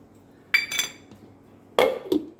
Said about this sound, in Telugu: ఇందులో ఐస్ ముక్కలు వేసుకొని